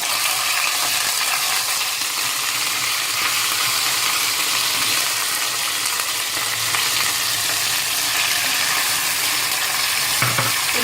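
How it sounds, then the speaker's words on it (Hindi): Garlic paste goes into browned ingredients frying in a pan, giving a loud, steady sizzle with occasional scraping stirs throughout and no talking. "ये तकरीबन ये हल्का हल्का फ्राई हो गया है, ब्राउन सा हो गया है।"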